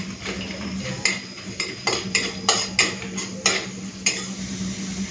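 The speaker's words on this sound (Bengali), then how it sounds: "ঘিটা গরম হয়ে গেছে। গোটা গরম মশলা দিয়ে দিচ্ছি, দিয়ে দেবো তেজপাতা" Whole garam masala and bay leaves go into hot ghee and are stirred, with rhythmic metal spoon clanks and scrapes against the pan over a low crackling sizzle.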